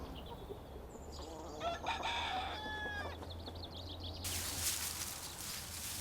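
Farmyard chickens cluck in short bursts and a rooster crows, layered over a low steady hum with some outdoor rustle.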